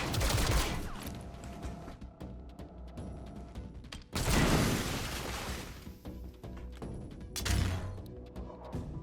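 Rapid bursts of gunfire from the video game XCOM: Chimera Squad, loud and dense, with a heavy volley at the start, another near the middle and a shorter burst near the end.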